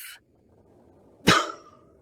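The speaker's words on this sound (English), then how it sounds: "I still have a bad cough." One short, sharp cough stands out clearly against near silence, preceded by a brief breathy sound.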